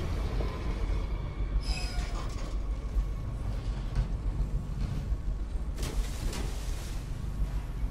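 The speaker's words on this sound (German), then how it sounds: "Hallo Zug." Train rolling past in the video game Dishonored, a continuous rumbling clatter of wheels with metallic squeals and creaks, a sharp screech near the start and a brighter burst of grinding later, no voices.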